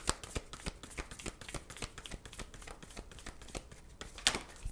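Tarot cards being shuffled by hand, a steady run of quick riffling flutters and soft slaps, close and fairly quiet with one sharper snap near the end.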